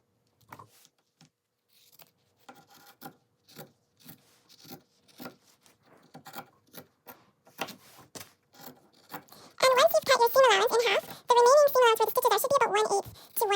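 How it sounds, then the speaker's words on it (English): Scissors trimming the fabric seam allowance on a sewn bag, a series of quick, soft close-up snips and rustles, followed by loud talking near the end. "So I'm going to go along and just quickly cut that seam allowance essentially in half"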